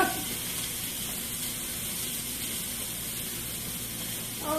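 Bacon frying in a pan, a steady close sizzle with crackling and spitting that holds evenly throughout, with no talking.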